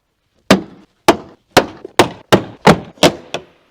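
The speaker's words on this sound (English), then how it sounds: "we're going to use this plastic tool to pry out the door panel" Seven sharp, loud pops in quick succession, each a hard snap followed by a brief rattle, as a plastic pry tool forces the clips of a MINI Cooper door panel loose.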